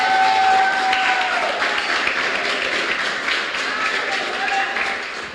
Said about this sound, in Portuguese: Forte esse aplauso à palavra do Senhor.